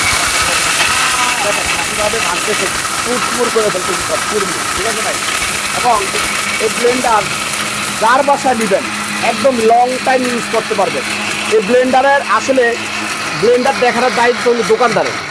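A powerful blender grinds a brick with a loud, continuous motor roar and gritty hiss, while someone talks over the machine throughout.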